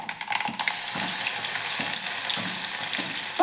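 Crushed ginger, garlic and green chili hit hot oil with popping mustard seeds for a drumstick mezhukkupuratti, a close steady sizzle broken by regular scraping stir strokes and a soft knock at the end.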